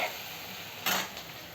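Green chili paste frying in hot oil in a home kitchen for pithla, a steady close sizzle throughout with a brief louder burst of crackling partway through.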